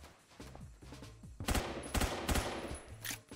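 Rapid bursts of automatic gunfire in the online shooter game Roblox Phantom Forces, with several quick volleys rattling out close together over a brief span.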